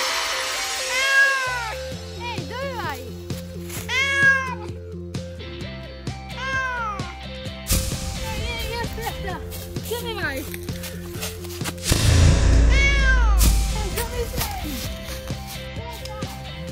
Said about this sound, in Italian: Questo è un gatto!